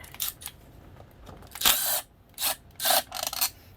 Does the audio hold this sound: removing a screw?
yes